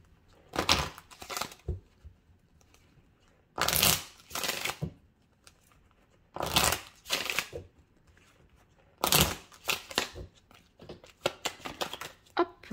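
Oracle cards shuffled by hand during a tarot-style reading, coming in several bursts of rapid riffling and flicking, close and crisp, separated by short pauses.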